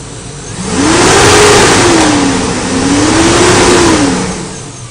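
The 5.3 liter engine of a 2001 GMC Yukon XL with automatic transmission revs up twice from idle, each rise holding briefly before falling back, loud and close throughout.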